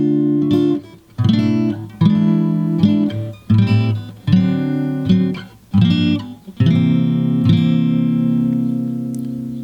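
Acoustic guitar slowly strumming the chords of a song, loud and close, with a series of ringing chord strokes separated by brief pauses and a final sustained chord fading out.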